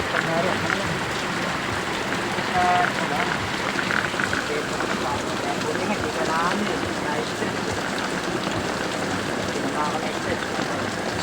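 Steady rain hisses across the whole clip, a dense wash of drops falling on a surface, with voices faintly talking underneath.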